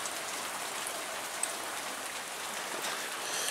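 Ongoing Northwest rain comes down hard as an unbroken wash of pattering drops, steady and close, with a single sharp drip standing out briefly and no one talking.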